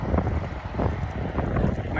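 Strong wind batters the microphone while out cycling, a continuous low gusty roar with buffeting swells, close and fairly loud throughout.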